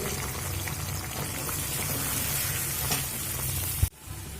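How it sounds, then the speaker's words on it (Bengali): Turmeric-coloured spice paste for a paneer curry sizzles and crackles steadily in hot oil over medium flame, close and even, ending with a sharp clatter. "মশলাটা আমি মিডিয়াম ফ্লেমে চার থেকে পাঁচ মিনিট মতো কষিয়ে নিয়েছি"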